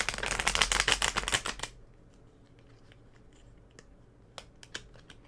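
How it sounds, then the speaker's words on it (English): Tarot cards shuffled close up in a quick burst of dense riffling flutters lasting over a second, followed by near quiet with a few faint taps and card snaps. "the cards don't want to shuffle"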